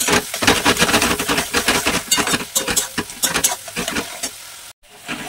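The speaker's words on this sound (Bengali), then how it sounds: "পেঁয়াজের মধ্যে লবণ, হলুদ, এই সমস্ত কিছু দিয়ে দিয়েছি। এবার এটা ভাজা হোক।" Onions with salt and turmeric fry in a pan, giving a loud close sizzle with repeated scraping stirs in an uneven rhythm, then a brief pause before the frying sizzle resumes.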